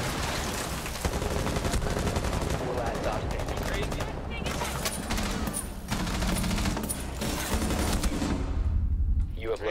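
Rapid bursts of automatic gunfire and explosions in the tactical shooter Rainbow Six Siege, loud and nearly continuous, with players talking over the shooting.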